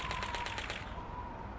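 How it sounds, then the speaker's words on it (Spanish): Rapid rifle gunfire aimed at plates and bottles on a firing range in Call of Duty 2, a quick burst of about seven close, sharp shots in a fast rhythm that stops partway, leaving a faint steady tone behind. "disparen a esos platos y botellas"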